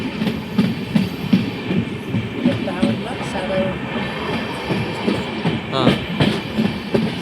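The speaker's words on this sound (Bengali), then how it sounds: "ট্রেন ভালো স্পিডে টানছে, চালু ট্রেন ট্রেনের মতন চলছে" Passenger train running from Berhampore to NJP heard from inside a carriage, a loud rhythmic clickety-clack of wheels over rail joints with steady rumble and a brief squeal, a voice speaking briefly.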